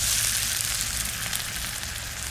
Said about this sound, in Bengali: মাংস ভাজা হয়ে গেছে, একদম ভাজা ভাজা হয়ে গেছে